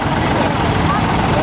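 A Nuffield Universal 460 tractor, a 60-horsepower four-gear model, runs at a steam rally showground with a steady, rough engine rumble. Someone talks over it throughout.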